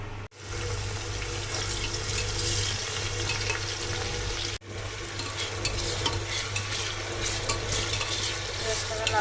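Cumin seeds crackle and hiss in hot mustard oil in a pan while mutton curry is being made; the loud, steady frying sizzle runs throughout over a low hum, with two brief dropouts.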